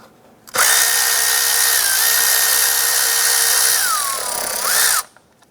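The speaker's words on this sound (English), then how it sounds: "Use a 10 millimeter socket to loosen and remove this lower bolt here on the bottom side of that intake" A power tool drives a 10 mm socket to loosen the lower intake bolt on a 2007-2012 Nissan Versa. One loud, close, continuous whir runs for about four seconds, its pitch dipping near the end, then stops abruptly.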